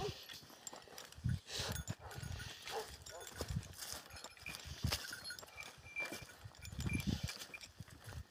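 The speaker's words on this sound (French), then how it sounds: "quand il croise des gens, il aboie pour m'avertir qu'il y a quelqu'un." A Cane Corso barks intermittently on a forest hike, several short sharp barks scattered across the stretch, mixed with footsteps, rustling undergrowth and a person talking.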